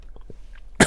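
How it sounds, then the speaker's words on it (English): A single short, sharp cough close to the microphone, coming right at the end after a near-silent pause with faint breathy sounds. "And just as I'm coughing,"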